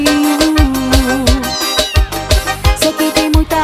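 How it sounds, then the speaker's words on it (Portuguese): Cat meows woven into a Brazilian pop song, with short meow-like cries repeating in rhythm over a loud beat and music. "Ele só faz miau pra mim."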